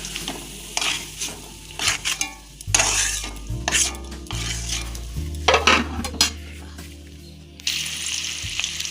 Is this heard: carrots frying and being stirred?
yes